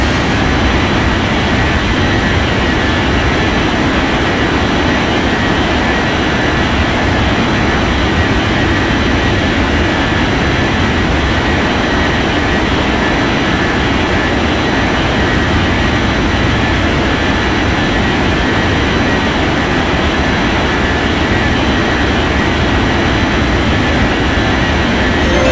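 Airliner takeoff in an air traffic control game: a continuous, loud, broadband jet engine roar that holds steady and dense for the whole stretch, with no voices over it.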